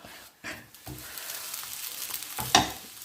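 A coriander and paprika flatbread is flipped in an oiled pan and sizzles. Soft crackling frying runs under a few scrapes and knocks, with a sharper clatter near the end.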